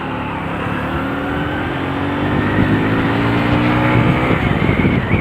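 A motorcycle rides in second gear along a rough, broken road, its engine droning steadily and close, climbing slightly in pitch and growing louder toward the end, with wind and road rumble mixed in.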